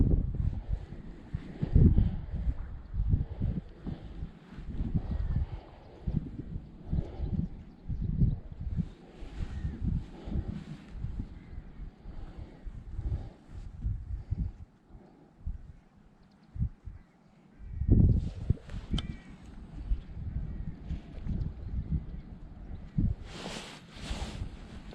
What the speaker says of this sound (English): this wind is coming hard from my right